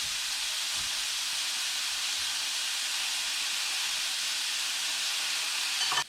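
Morel mushrooms frying in a pan, spread in one layer to crisp, give a steady, close hiss and sizzle that holds evenly throughout, with no talking.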